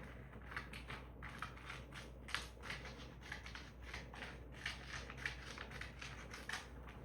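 Heat transfer vinyl being cut, a quiet run of short, repeated snipping and crinkling strokes in a steady rhythm, close by and faint against low background hum, with no one talking.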